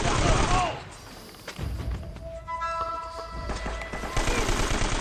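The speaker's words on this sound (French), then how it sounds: "il y en a un qui a retourné la mitrailleuse en bas en fait" Machine gun fire in the video game Uncharted, loud rapid bursts at the start and end with a quieter stretch of scattered shots and in-game tones between, and a voice speaking over the action.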